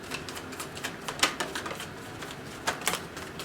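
Tarot cards being handled and shuffled during a reading, giving soft scattered flicks and riffling snaps with a couple of sharper slaps, close and fairly quiet with no talk.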